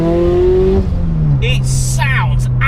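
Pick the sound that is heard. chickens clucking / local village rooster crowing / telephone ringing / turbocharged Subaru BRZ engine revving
turbocharged Subaru BRZ engine revving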